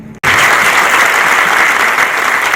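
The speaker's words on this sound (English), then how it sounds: "Clap" A seated audience at an education forum in Kolkata breaks into sudden, loud, vigorous clapping after a brief silence, a dense, fast burst of many hands that stays strong to the end.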